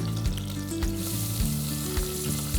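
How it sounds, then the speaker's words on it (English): Cinnamon, curry leaves and chopped onions frying in hot oil for mulligatawny soup, a loud continuous close sizzle with no talking. "heat up a little bit of cooking oil. I'll throw in some cinnamon, some curry leaves, chopped onions"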